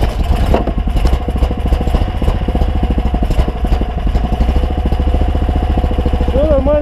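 A PROMAX SRX-700 snowmobile engine turns over and catches, then settles into a steady, loud, close idle with a rapid clattering pulse that runs throughout, while some brief speech-like sounds appear near the end.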